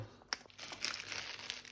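Strong plastic bag filled with minced meat for homemade kabanosy crinkles and rustles up close, with a sharp crackle near the start followed by steady rustling that continues throughout.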